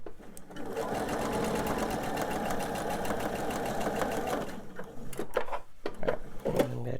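Sewing machine running steadily while stitching a seam on a fussy-cut candy dish quilt piece, a fast, even mechanical whir for about five seconds, then stopping, followed by scattered handling clicks and rustles.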